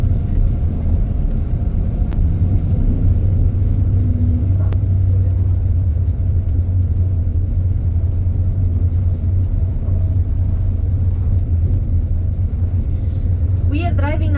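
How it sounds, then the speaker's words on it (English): A tour bus rolls through the Swiss countryside between Zurich and the Rhine Falls, its steady low engine rumble and road noise droning throughout, with talk over it. "We are driving now through the countryside"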